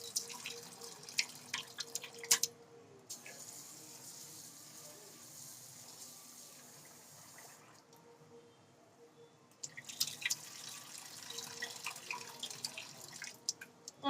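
Dal lentils being washed by hand in water, a continuous close sloshing and trickling with drips, easing off midway before the splashing picks up again.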